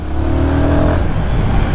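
A Royal Enfield Guerrilla 450 motorcycle engine in sports mode drones loud and close with a steady throaty hum and a slight rise in pitch as it pulls, with wind noise around it.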